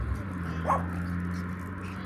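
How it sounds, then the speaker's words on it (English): An excited dog lets out a single short bark or yelp over a steady low background hum, fairly faint and not close by. "What a cute dog. She's just so excited."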